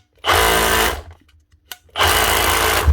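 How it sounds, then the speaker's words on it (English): A Milwaukee Fuel 18-volt brushless SDS drill runs in two close, loud bursts of whirring motor about a second each, separated by a short quiet gap with a small click. "Milwaukee fuel brushless motor 18 volt SDS drill up and running again"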